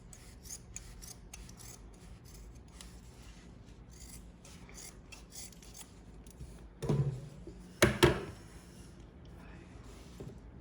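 Scissors cutting old denim jeans fabric, a couple of brief crunching snips close by after a stretch of faint rustling handling.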